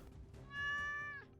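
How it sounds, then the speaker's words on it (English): A single drawn-out meow from a cat in a video game rises clearly over faint background sound, close and steady for about half a second. "Will you adopt this cat?"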